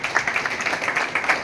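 An audience at a Tapi Puran religious gathering claps for a guest, a thin, fairly steady patter of hand claps at moderate distance with no voices over it.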